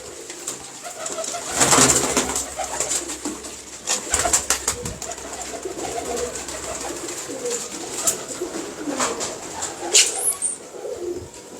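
Teddy pigeons coo close by in soft, repeated throaty calls, with a few brief flutters and rustles between them and faint voices in the background.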